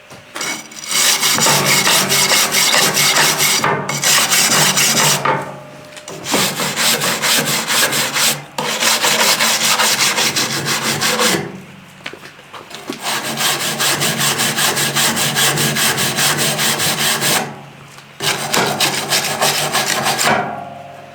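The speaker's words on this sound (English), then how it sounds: "Quick rub with a wire brush." A wire brush scrubs hard against a homestead woodstove being restored. Loud rasping strokes run in long sustained bursts with short pauses between them, close up and with no talk.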